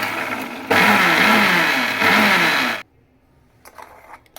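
Blender whirring through homemade mayonnaise in a kitchen, a loud steady motor whine for about two seconds that cuts off abruptly, followed by quiet with faint clinks.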